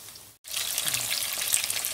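Food frying for chicken Manchurian in a pan on a stove with the heat turned up, a loud steady crackling sizzle close by after a brief gap, no talking.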